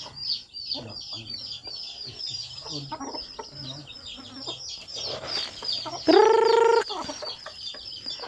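Chickens cluck in close, repeated bursts, then a rooster lets out a loud crow near the end.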